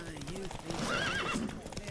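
In The Witcher 3 video game, a horse whinnies loudly over rapid galloping hoofbeats, with a voice shouting over the sound.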